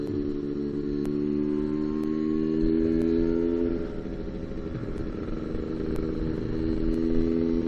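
A small Lambretta scooter engine hums steadily at close range, its pitch dipping midway then rising again, with faint rattling clatter over the drone.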